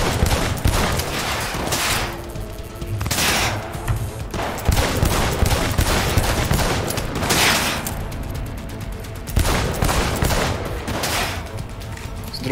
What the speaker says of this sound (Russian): С дробовика.